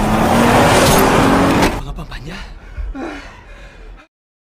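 Car chase in an action film: a loud, dense roar of a speeding car fills the first seconds, then cuts to quieter scene noise with a few short voiced sounds and gasps before ending in silence.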